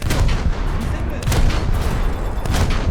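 Loud naval gunfire salvos from the destroyer Ayanami in a video game battle, heavy booming blasts in quick rolling succession over a dense rumbling bed, close and continuous.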